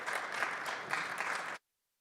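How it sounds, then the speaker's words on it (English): Conference crowd in Las Vegas applauding a speaker's entrance, a steady wash of many hands clapping that cuts off abruptly into silence. "Give her a big round of applause."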